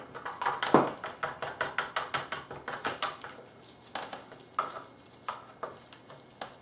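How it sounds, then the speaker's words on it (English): A stick stirring resin and hardener in a mixing container for fiberglassing a mask, producing a steady series of rhythmic scraping taps and knocks against the container walls, close and moderately quiet with no talking. "put the amount of hardener you need in the resin and just mix it"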